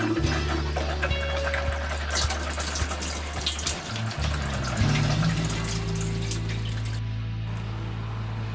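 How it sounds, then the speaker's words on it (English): A Whale water pump hums steadily while water gushes from an open hot tap with sputtering bursts of air clearing from an Expanse water heater, close and continuous with clicks and sloshing. "Let's get started by turning on the pump. Leave the hot tap open until all air clears from the water heater"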